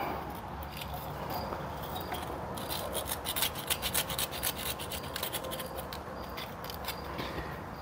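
Sandpaper rubbing and rasping between the ignition points of a 1970s Massey Ferguson 253 tractor, a steady close scratching with faster strokes in the middle, alone without talk.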